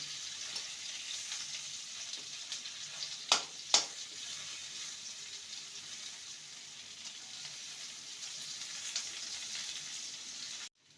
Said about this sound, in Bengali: মিডিয়াম টু লো ফ্লেমে রেখে কচুগুলোকে ভেজে নিতে হবে